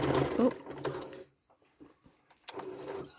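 A sewing machine quilting repeating curves on a quilt, running in short bursts with pauses between stitching runs, close and fairly quiet.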